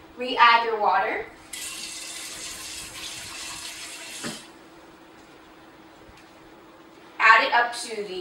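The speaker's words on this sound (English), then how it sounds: "Re-add your water." Running water from a tap pours steadily for a few seconds, filling a rice cooker pot, with brief speech before and after.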